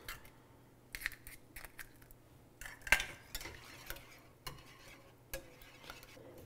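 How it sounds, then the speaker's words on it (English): Eggs being whisked in a pan for Bhutanese scrambled eggs with goat cheese: quiet, irregular clicks and scrapes of a utensil against the pan, with a sharper knock near the middle. "We're gonna whisk this up and we're gonna keep going until all the eggs are in."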